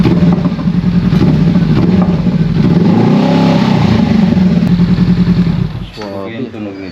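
Honda CB500F motorcycle fitted with an SC Project muffler, revving hard and steady for about six seconds with a deep loud bass exhaust note, then dropping to a lower burbling idle near the end.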